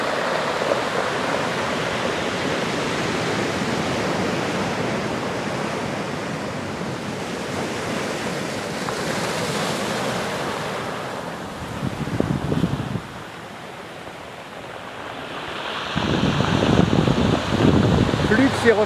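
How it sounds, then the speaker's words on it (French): Ocean waves at the beach of Port Ouest, Réunion, at sunset, a steady broad wash of surf with a louder surge building near the end. "Flux et reflux."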